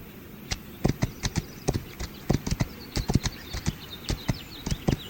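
Horse hooves in the video game This Land is My Land, a crisp clip-clop walking rhythm of irregular hollow knocks, fairly quiet over faint background ambience, with no talk.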